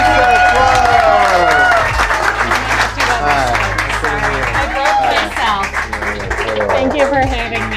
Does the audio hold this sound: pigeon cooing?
no